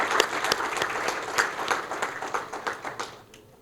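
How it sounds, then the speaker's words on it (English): Applause from a crowd at a school awards ceremony, steady clapping that carries on for several seconds and begins to fade near the end. "can we therefore give a round of applause to our teachers and principals in our schools"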